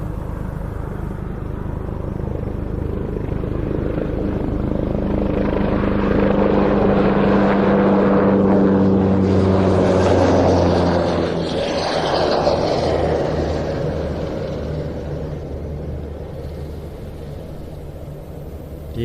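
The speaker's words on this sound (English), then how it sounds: "Is a tactical helicopter developed from the Cougar and Super Puma family, which first flew in the year 2000." An Airbus H225M tactical helicopter, developed from the Cougar and Super Puma family, departs an air show with a loud, steady rotor and turbine roar that swells and then fades slightly over nearly twenty seconds.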